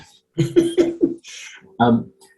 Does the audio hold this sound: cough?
yes